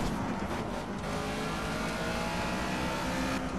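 Race car engine from the video game Project Cars, a steady dense roar that holds loud and continuous throughout with slight swells as it revs.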